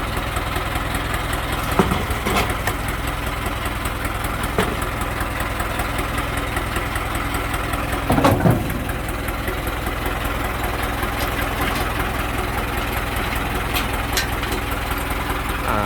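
A Ford AT6610 diesel farm tractor engine idles steadily nearby, a continuous low rumble with faint clunks and rattles throughout.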